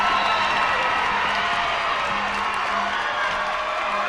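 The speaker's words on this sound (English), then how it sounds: "Listen to this crowd." Loud crowd cheering and whooping fills a college basketball gym at a Bob Jones University versus Geneva College game, a sustained roar of many voices that stays steady throughout.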